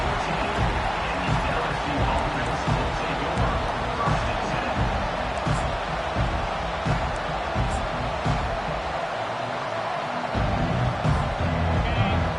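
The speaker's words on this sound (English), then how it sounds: "The roar of the crowd trying to fuel this defense to keep them pinned in their own end." A dense, continuous stadium crowd roar in a college football video game fills the space at steady loudness, a broad wash of many voices without pause.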